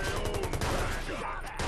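Rapid assault rifle fire in the video game Watch Dogs, a dense rattling burst of shots close up and loud, continuing steadily for well over a second with a brief gap near the end.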